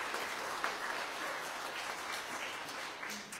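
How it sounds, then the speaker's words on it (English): Applause from a church congregation during a Sunday service, a steady wash of many hands clapping at moderate distance, even and sustained throughout with no talk over it. "Let's give them all a round of applause."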